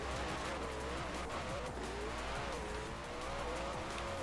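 A car in Forza Horizon 4 drives with a steady engine drone while its tires squeal in wavering, drawn-out streaks, close and continuous, and a voice speaks faintly underneath.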